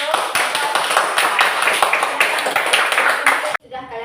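Classroom clapping for a group presentation, a dense burst of many hands near and loud, running steadily before cutting off abruptly, followed by a brief voice.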